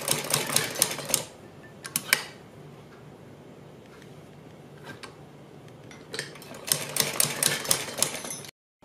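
A sewing machine stitches along a neck design on fabric in bursts of rapid clattering, near and fairly loud, with quieter pauses between runs.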